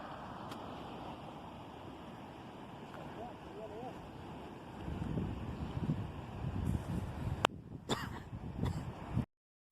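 A river flows near Mount Morris Dam in Letchworth State Park, New York, as a steady low rushing that swells louder and gustier in the second half, with buffeting wind noise on the microphone.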